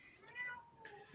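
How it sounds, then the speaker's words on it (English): Domestic cat meowing once, a drawn-out faint tonal meow rising then falling, heard quietly indoors. "Whose cat's that?"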